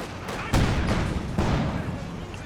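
An anti-tank gun fires at a T70 tank in a competitive strategy video game match. Two or three sharp, loud booming shots ring out in a rough irregular sequence over a dense battle rumble.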